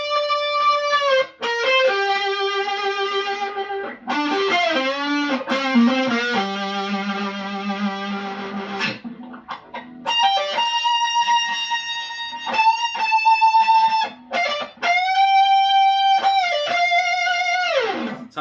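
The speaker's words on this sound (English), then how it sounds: "I'm noticing that on the distortion, that these lace pickups really come alive" Distorted electric guitar with Lace pickups, on a Stardog Monolith, plays a sustained lead melody with bends and held notes, loud and saturated, phrases separated by short pauses.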